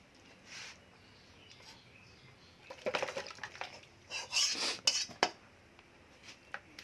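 A metal kadai of home-cooked desi chicken curry is lifted off a stove with a few scraping clanks and metallic knocks, moderately loud and close, with quieter rustling before and after and no talking.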